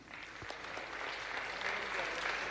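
Audience applause welcoming the chief guest, the Vice President, to the dais at a foundation stone-laying ceremony for ICAI Bhawan in Ernakulam; steady, moderately faint clapping from a seated crowd, continuous throughout.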